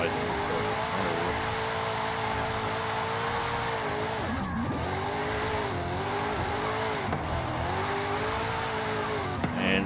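In Forza Horizon 5, a car slides sideways with a steady engine drone and rising and falling revs as it holds the slide, while a voice talks over it.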